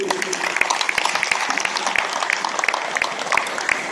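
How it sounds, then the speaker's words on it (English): A crowd at a 2014 pork cooking competition claps steadily for the judges, a dense, even patter of many hands filling the room without pause. "a round of applause for all our judges"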